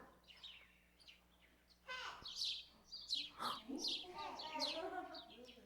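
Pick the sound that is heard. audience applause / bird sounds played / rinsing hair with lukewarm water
bird sounds played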